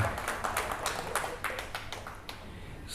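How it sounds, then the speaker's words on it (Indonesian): Audience applause greeting a speaker as he is introduced at a speech event, a burst of many hands clapping that is fairly close and steady, then thins out toward the end. "tepuk tangan buat Pak Juanda."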